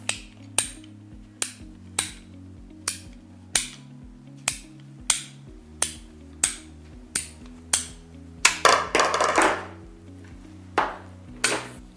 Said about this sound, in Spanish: Procedemos a cortar la tubería de forma recta.